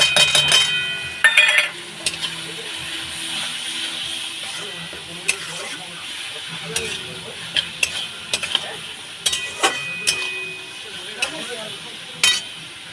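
Desi chicken sautéing in a pan with ground cumin, chili powder, salt and turmeric: a steady close sizzle with repeated spoon scrapes and clinks against the pan as the mixture is stirred.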